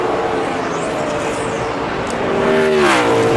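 2002 NASCAR Winston Cup race cars at Pocono in the Pennsylvania 500, engines roaring steadily in a continuous drone, with one car's pitch sweeping and rising near the end as it closes on another in the final laps.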